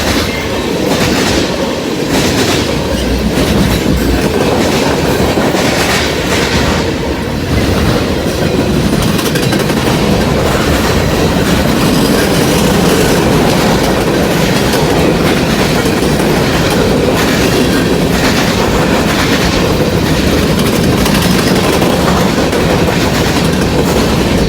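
Freight train cars roll past close by, among them empty tank cars and a fuel tank car. A loud, continuous rumble runs throughout with rhythmic clickety-clack from the wheels and no talking.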